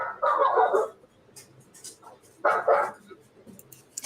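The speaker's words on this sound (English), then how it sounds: "when you get dogs barking and they're barking at the windows or doors, it's something outside" Dogs barking indoors at a home in Roma, Texas, two loud bursts of barking about two seconds apart with quieter gaps between, alone without talk.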